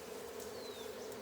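Steady, even droning hum of a bee swarm gathered inside a box, close and continuous, with no voices over it.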